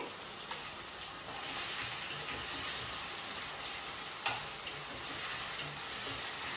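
Onions fry with salt in a pan, giving a steady, close sizzle with spoon-stirring scrapes and a few sharper pops, and no voices.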